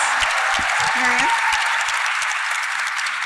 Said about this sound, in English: give all of our panelists a round of applause